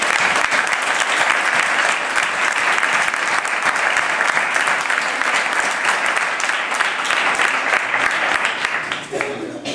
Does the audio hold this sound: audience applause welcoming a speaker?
yes